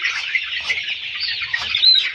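Layer hens cluck in a busy, continuous chorus during fowl pox vaccination on a poultry farm, close and fairly loud, with faint wing movement and no talking.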